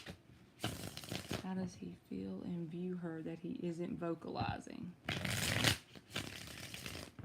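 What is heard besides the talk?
shuffling tarot cards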